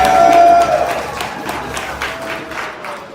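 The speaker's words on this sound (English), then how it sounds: "Give her a round of applause." An audience applauds at a community event in a steady round of clapping, loudest at the start and then easing off but continuing throughout, with faint voices mixed in.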